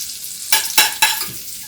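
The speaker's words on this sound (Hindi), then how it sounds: "लहसुन थोड़ा हमारा भून गया हल्का सा" Garlic sizzling in olive oil and butter in a pan, with three quick scraping stirs cutting through the steady crackle, close and loud, no voices.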